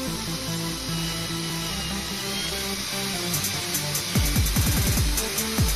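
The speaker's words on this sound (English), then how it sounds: "Get a right angle drill attachment." A power drill fitted with a right-angle attachment whirs steadily, then gives several short bursts as it drives a screw in a tight space, close and fairly loud.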